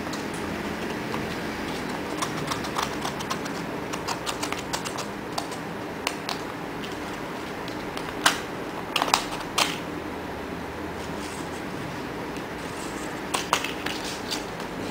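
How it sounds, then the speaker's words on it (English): Multi-tool blade slowly slitting open a paper envelope, soft scratchy tearing with scattered small clicks and taps, close and quiet over a faint steady background. "Holding the blade inside the envelope,"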